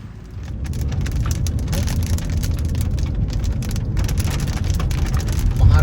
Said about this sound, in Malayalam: മഹാരാഷ്ട്ര കടന്നപ്പോൾ നല്ല അടിപൊളി മഴ